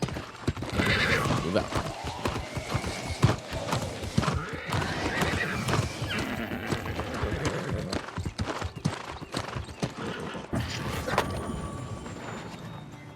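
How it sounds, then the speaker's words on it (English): Horse hooves clip-clop steadily while a horse whinnies loudly in the video game New World: Aeternum, with game-like mechanical sounds and a brief spoken command over the top. "Horse."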